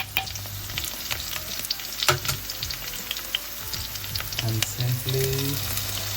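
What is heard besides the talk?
aloo gobhi with masala sizzling and being stirred in pan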